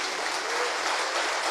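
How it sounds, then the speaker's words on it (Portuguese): A church congregation claps together during a service, a dense, even wash of applause filling the brief moment with no voices standing out. "Aplauda, aplauda, aplauda e diga: bendito seja o teu nome, Senhor."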